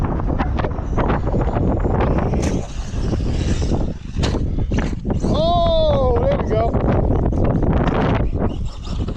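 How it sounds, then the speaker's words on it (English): Strong wind buffets the microphone in loud gusts, with an Arrma Fury 223S RC truck's motor whine rising briefly partway through and voices speaking over it. "It's very windy too."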